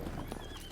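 Roach, Geralt's horse in The Witcher 3, arrives with quick galloping hoofbeats and a brief whinny, loud and close over a steady game soundscape.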